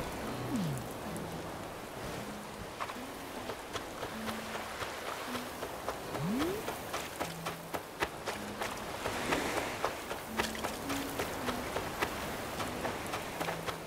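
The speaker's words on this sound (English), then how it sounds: "right now the rain is kind of ruining it, but it'll look good once it's not raining" Rain falls in the video game Animal Crossing: New Horizons as a soft, continuous patter of drops, with light footsteps and small chiming game tones scattered across it, all fairly quiet.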